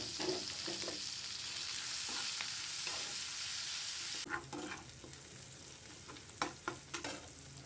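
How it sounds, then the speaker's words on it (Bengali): Chopped onions frying in the oil used for dried ribbonfish, a soft continuous sizzle broken by scraping stirs and spatula knocks, louder and more clattery in the second half. "এই তেলের ভিতরেই পেঁয়াজ কুচি দিয়ে ভেজে নিব"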